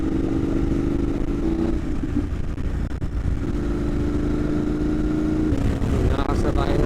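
Motorcycles ride along a road in the Philippines, engines droning steadily close by with wind noise and shifting revs, while a rider talks over them.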